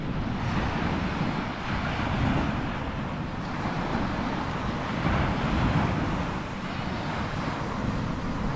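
Ocean surf washes steadily onto Green Bay beach in Banyuwangi, a continuous broad roar of breaking waves with wind buffeting the microphone throughout, no voices.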